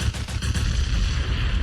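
Heavy gunshot sound effect that hits like an explosion: a quick burst of booming shots in the first half second, then a dense rumbling tail, loud and alone with no voices.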